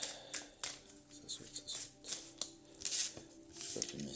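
Tarot cards being shuffled by hand, a series of soft riffling and slapping bursts at an uneven rhythm, close and quiet.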